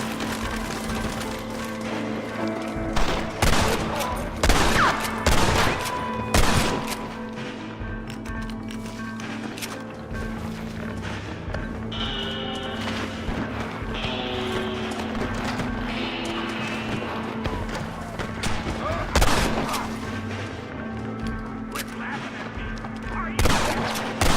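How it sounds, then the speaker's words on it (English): Gunfire in the video game Red Dead Redemption rings out in scattered sharp bursts with some rapid volleys, mixed with horse hoofbeats and a busy game soundscape, while voices speak at times. "Stop shooting at me!"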